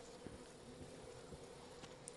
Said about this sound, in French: je vais faire attention aux abeilles.